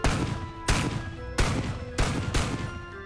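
Enemy gunfire in a video game, five loud, evenly spaced shots, each a sharp crack with a short ringing tail.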